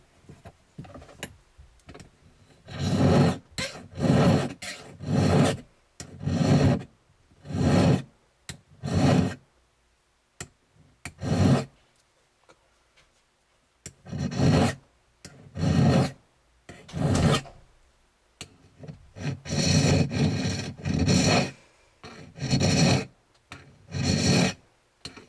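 Rhythmic hand polishing strokes rub against the underside of a slider frame where the adjustment screws ride, a rasping back-and-forth in repeated bursts with short pauses between sets, close and fairly loud.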